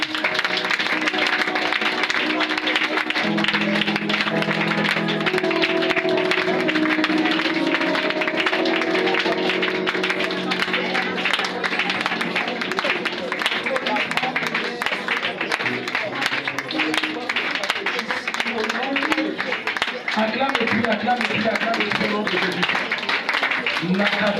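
A church congregation applauds steadily throughout, a continuous dense clapping mixed with crowd noise and voices talking over it.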